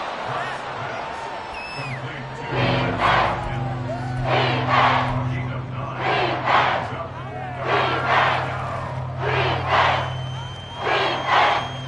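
A football stadium crowd roars in repeated swelling surges that rise and fall every second or two, loud and broad, with a commentator's voice talking over the noise throughout.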